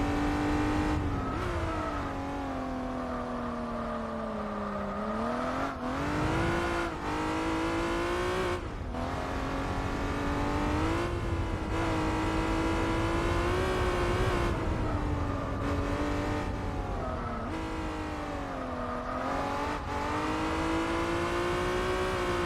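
Six-cylinder car engine in the Gran Turismo 4 racing game, holding a loud steady drone that rises and dips as revs climb and fall through gear changes, continuous and close for the whole stretch with no talk over it.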